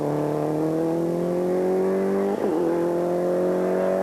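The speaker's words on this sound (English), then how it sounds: "The Escort powering away very effectively on those well-known features" Ford Escort rally car accelerating hard away on a stage, a loud sustained engine note climbing steadily in pitch with a brief gear-change dip midway, close and alone.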